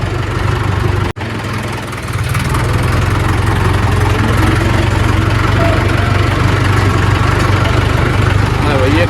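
A tractor engine idles steadily outdoors with a loud, low, chugging rumble and a constant throb. A brief knock sounds early on, and people talk faintly in the background.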